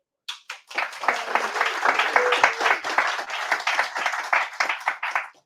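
Applause from a tech conference audience welcoming a speaker, a dense burst of many hands clapping that starts abruptly, holds steady for about five seconds, then thins out.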